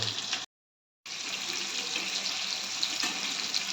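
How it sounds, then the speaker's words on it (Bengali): Onion frying lightly in a pan, a steady broadband sizzle that cuts out briefly near the start and then resumes, close and even. "পেঁয়াজটা ভেজে নিচ্ছি হালকাভাবে।"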